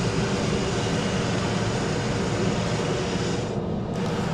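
A De Havilland Dash 8 turboprop taxiing at Sydney Airport at night, a steady, fairly loud broadband engine drone and whine that holds evenly throughout, with no talk.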